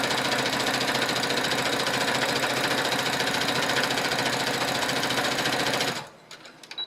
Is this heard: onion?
no